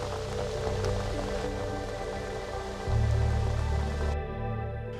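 Rain falls at a lake during carp fishing, a steady hiss of drops on the surface with a heavier, louder patter building partway through.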